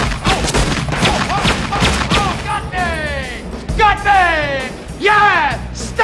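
Gunshots ring out in a loud, dense fusillade of sharp reports and booms, with yelling voices mixed in throughout.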